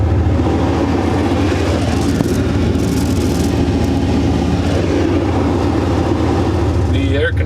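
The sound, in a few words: truck air conditioner blowing air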